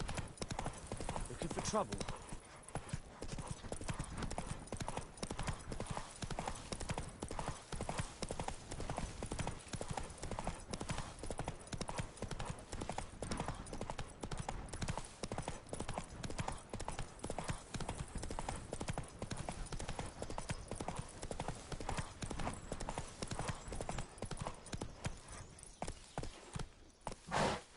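A horse named Roach gallops through The Witcher 3 game world, its hooves clip-clopping in a fast, steady rhythm throughout, with a voice speaking briefly over the hoofbeats.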